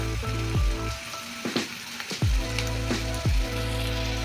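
Carrot, potato, beans and peas for uppittu sautéing on a low flame, with a steady close sizzle and frying crackle, punctuated by sharp clinks and scrapes of a stirring spoon against the pan.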